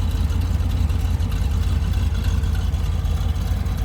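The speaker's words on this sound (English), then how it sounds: "Great sounding exhaust." Exhaust of a 1963 Chevrolet Corvette split-window coupe with a 327 V8 rated 340 hp, idling close by with a steady, deep, even burble and no voices.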